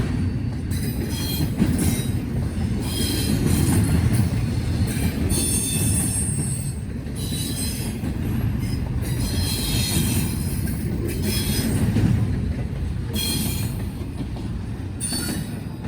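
An eastbound freight train rolls past nearby, its wheels squealing in repeated high-pitched bursts over a steady rumble and clatter of rail cars, with no talking.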